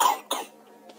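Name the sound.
cough of a sick person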